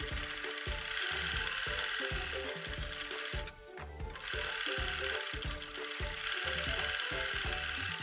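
A sewing machine stitches fabric into a mannequin cover, giving a fast, even mechanical clatter. The rhythmic ticking runs nearly without break and at moderate loudness, dipping only briefly.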